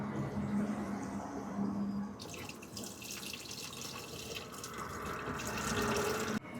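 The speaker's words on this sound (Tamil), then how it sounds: "புளி கரைச்சி வச்சுருக்கோம் அதை ஊற்றுறோம்" Tamarind water pours into a pot of jilebi fish curry. A quiet, continuous splashing and trickling runs for several seconds.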